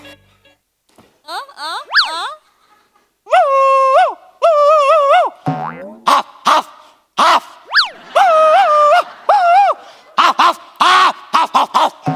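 A person imitates a dog on a Marathi comedy show stage with a series of yelping barks and whiny howls in quick, uneven bursts, loud and close.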